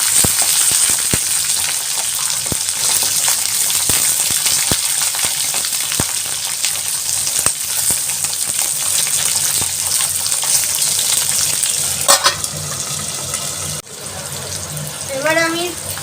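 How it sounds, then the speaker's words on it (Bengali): Green peas tipped into a hot pan of frying new baby potatoes for a vegetarian Bengali alur dom give a continuous close sizzle, with occasional clinks and scrapes and some brief sharp sounds near the end. "এবার আমি মটরশুঁটিগুলো দিয়ে দেবো"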